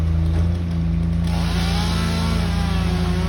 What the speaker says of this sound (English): Can you hear the sound of the chainsaw?